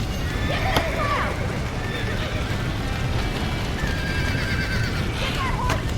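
A horse in Red Dead Redemption lets out two shrill whinnies, one near the start and one at the end, over constant clip-clopping hooves and a dense background of game action and distant voices.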